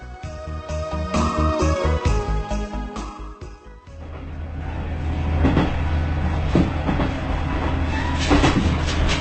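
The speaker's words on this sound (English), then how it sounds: "traveling to Kawakami village on the JR Koumi line. This is Japan's highest railway line" A JR Koumi Line train, Japan's highest railway, runs close by with a steady rumble and rhythmic clickety-clack of wheels over rail joints, the beat fading into a continuous rolling roar as the train keeps moving.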